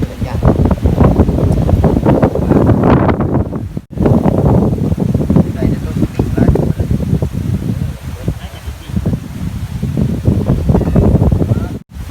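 Dry wind blowing outdoors at a New Year gathering: loud, constant buffeting rumble on the microphone with rustling, and voices talking underneath.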